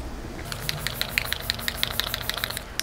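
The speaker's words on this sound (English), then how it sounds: "This is the Rimmel Stay Matte setting spray" Rimmel Stay Matte setting spray misted onto a face in a series of quick, close, hissing bursts, one after another in a fast, uneven rhythm.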